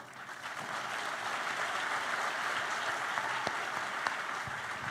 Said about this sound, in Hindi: ताली बजाने में कंजूसी क्यों?